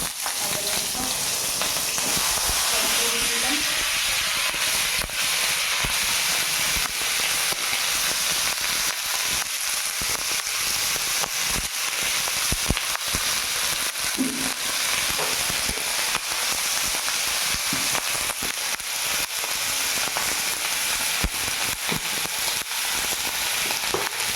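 Panch phoron and chilli sizzle steadily in hot oil in a wok, a loud, continuous crackling hiss with scattered pops that keeps going throughout.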